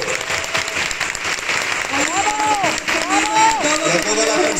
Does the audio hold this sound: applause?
yes